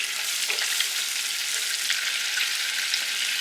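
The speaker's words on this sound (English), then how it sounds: "And if you can hear, the bubble popping has gone down." Steady crackling sizzle of food frying in a pan, with small scattered pops from bubbles, fairly quiet and continuous.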